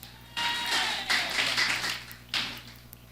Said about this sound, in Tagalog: Palagpagan natin ng Panginoon.